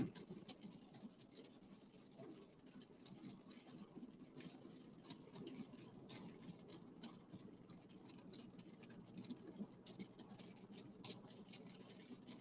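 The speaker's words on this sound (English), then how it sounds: "And the rain is back." Rain patters on a truck during driving, a faint, steady crackle of light irregular drops over a low cab hum, with no talking.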